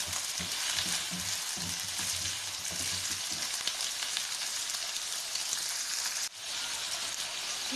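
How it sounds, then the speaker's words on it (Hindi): About half a kilo of meat for balti gosht sizzling steadily in a pan, a dense close hiss with faint scraping early on, no voices. "गोश्त को हम लोग अच्छे से भूनेंगे।"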